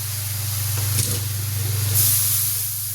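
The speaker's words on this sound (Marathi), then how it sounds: "मग थोडा पाण्याचा हापका मारून घेते" A loud, steady hiss of water sprinkled into a hot pan of gram-flour-stuffed chillies, swelling in a burst midway and continuing throughout.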